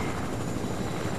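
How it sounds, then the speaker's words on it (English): A helicopter in the Fortnite video game thrums with steady rotor noise, loud and continuous, close by with no voices. "Chopper."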